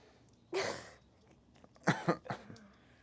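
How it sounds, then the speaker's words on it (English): A single breathy cough, then a quick cluster of three short coughs, fairly close against quiet background noise. "Just a little cough."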